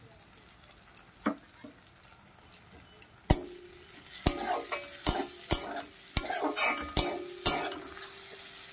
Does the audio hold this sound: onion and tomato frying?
yes